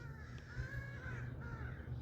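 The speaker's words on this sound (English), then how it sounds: "Crows are giving me a hard time." Crows cawing outdoors around a lot with tire pedestals, the harsh calls fairly faint and repeated over a steady low rumble of background noise, with no talking.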